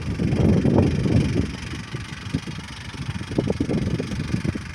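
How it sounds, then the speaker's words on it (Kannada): A tractor engine working a field rumbles at mid pitch, swelling and easing as it runs, fairly close and without talk. "ಗಳೆಯನ್ನು ಟ್ರ್ಯಾಕ್ಟರ್ನಿಂದ ಹೊಡಿತಾ ಇದ್ದಾನೆ."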